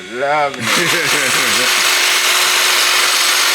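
A new garden trimmer cuts down plants with a loud, steady, harsh buzz right up close, starting just after a brief spoken question.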